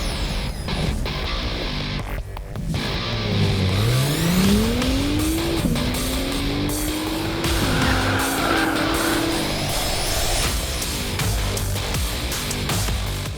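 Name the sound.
Acura NSX 2017 driving on race circuit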